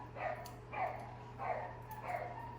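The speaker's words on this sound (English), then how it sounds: "the neighbor's dog" A neighbour's dog barks four times in a steady rhythm, moderately loud, with a low hum underneath.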